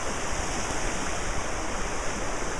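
Floodwater roars down a swollen creek at an RV park, a loud, steady broadband rush with no pauses and no voices.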